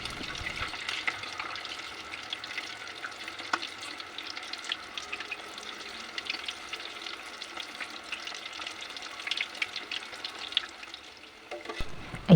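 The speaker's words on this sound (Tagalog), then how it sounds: "I-fry lang po natin ang ating lumpia hanggang mag-golden brown ang lumpia wrapper" Cheesy lumpiang Shanghai spring rolls deep-fry in hot cooking oil, giving a steady, even bubbling sizzle with faint crackles throughout and no talking.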